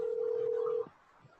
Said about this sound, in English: Let me just call her really quick, just to be proactive.